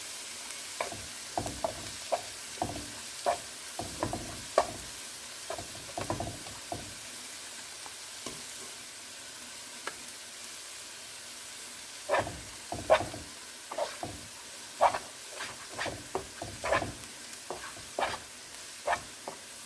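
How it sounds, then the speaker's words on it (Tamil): Banana flower and lentil usili sizzling in a pan, with a steady frying hiss broken by repeated clattering strokes of a spoon stirring, close and fairly quiet. "அடுப்பில் கொஞ்சம் லேசாக பரட்டும்"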